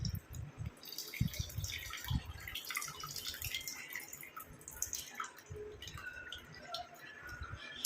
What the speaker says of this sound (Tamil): இப்போ இதில் வந்து ஆல்ரெடி நம்ம எடுத்து வச்சுருக்க டிகாஷன் எல்லாத்தையுமே உள்ளே ஆட் பண்ணிக்கலாம்